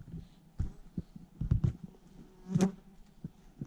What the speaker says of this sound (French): j'ai une abeille qui me gêne